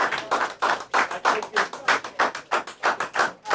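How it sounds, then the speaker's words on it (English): Rhythmic audience applause at a comedy show, steady beats roughly four per second, fairly close and dry, continuing without pause for a few seconds. "He already got a bigger round of applause than I did."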